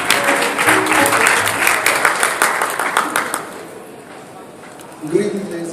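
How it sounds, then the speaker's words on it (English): A startup-pitch audience claps for a Pakistani presenter at a Jakarta tech conference, a dense burst of applause that gradually thins out before a voice speaks near the end. "Please welcome, please, a round of applause for Bookme."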